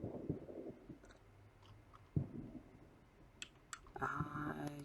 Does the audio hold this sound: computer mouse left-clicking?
yes